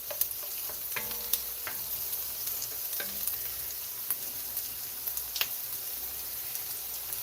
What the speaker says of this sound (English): And you're going to let it boil